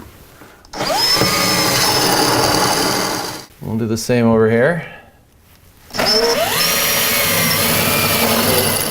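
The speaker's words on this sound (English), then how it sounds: "we are drilling for the toggle bolt" A power drill whines steadily as it bores holes into drywall for toggle bolts, pausing briefly while a person speaks, then drilling again.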